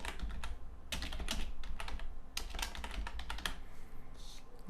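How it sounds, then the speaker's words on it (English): Typing on a computer keyboard: a quick, irregular run of close, crisp key clicks over about five seconds, with short pauses between bursts and no speech. "I type in add to cart."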